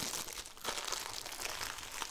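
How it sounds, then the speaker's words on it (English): Close crinkling and rustling of a plastic bag, steady and scratchy throughout, with a brief pause near the start. "I don't need this plastic bag."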